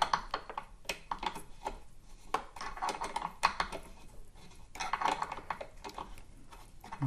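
Quick metallic clicks and clinks of a pedal bolt being threaded in by hand on a KS18XL wheel, an irregular close run of light taps with no talking.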